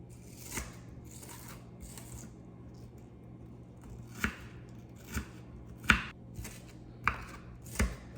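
A knife chops ingredients for mango salsa on a cutting board, striking in close, irregular thuds with brief pauses between cuts.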